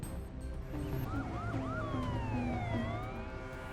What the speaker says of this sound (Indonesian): beberapa mobil polisi datang mengepung mereka dengan sirine meraung-raung